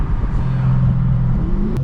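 An 800 hp Dodge SRT Hellcat engine rumbles loud and close as it shifts from first to second gear, its deep drone falling and then climbing again with a brief change in tone.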